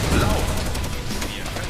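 A .50 caliber machine gun mounted on a Sherman tank fires in an animated World War II battle, a dense, loud rattle of rapid shots blending with booming explosions and a heavy battle din throughout.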